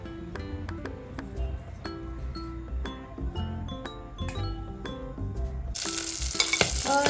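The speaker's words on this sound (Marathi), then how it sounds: "चरबी ठेवतो वरती तेल गरम करून" Mutton fat dropped into heated oil for a Maharashtrian tambda rassa and mutton sukka, with soft stirring and clinks over a steady low sizzle that swells into a loud, hissing fry near the end.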